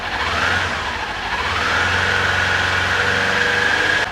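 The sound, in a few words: Kawasaki Ninja 400 motorcycle revving with SC Project slip-on exhaust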